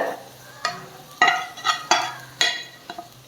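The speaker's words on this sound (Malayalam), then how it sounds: "ഇനി ആ പൊടികളുടെ പച്ചമണം മാറുന്നത് വരെ ഒന്ന് നമുക്ക് വഴറ്റിയെടുക്കാം." Coconut, ginger and garlic sautéing with coriander, chilli and pepper powders in a pan for beef curry: a spoon scrapes and stirs in several distinct strokes over a soft sizzle, close up with no talking.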